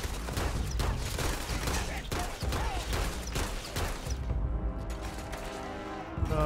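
A cannon-like weapon firing in the video game Starfield, a rapid string of heavy booming shots that continues throughout, loud and close, with a faint voice and some ringing tones as it trails off.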